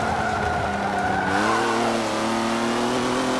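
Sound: Volvo car engine racing in Forza Motorsport 7 video game

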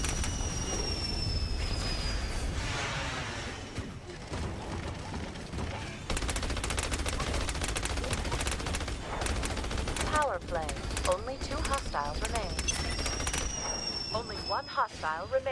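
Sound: gunfire in the video game Battleborn

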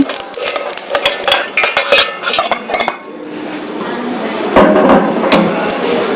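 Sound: sesame seeds being added and roasted in a pan

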